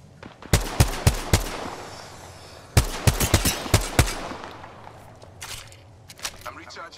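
Gunfire rings out in the video game Apex Legends in two clusters of sharp, rapid shots, then thins to scattered distant cracks.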